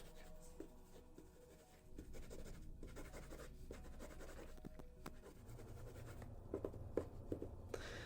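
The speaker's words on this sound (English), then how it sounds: "Write that down really quick." Pen or pencil writing by hand on paper, a soft scratchy scribbling that runs steadily through a quiet, close setting with faint background hum.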